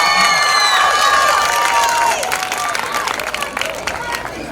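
A crowd at a 2024 high school homecoming field celebration cheers, shouts and applauds loudly for the junior class representatives, with a dense wall of voices and whistles that eases slightly after a couple of seconds.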